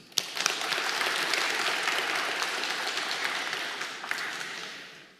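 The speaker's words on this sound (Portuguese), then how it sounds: "Você pode dar uma salva de palmas para Jesus?" A church congregation at a Sunday morning service breaks into sustained applause for Jesus, a dense wash of clapping that starts abruptly, holds steady and fades gradually over several seconds.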